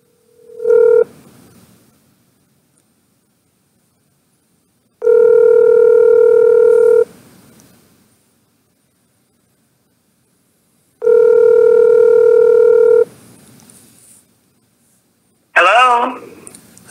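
A telephone call is placed, with a steady dial tone that comes in three long bursts separated by silence, ending in a short warbling electronic tone, loud and clear with no talk.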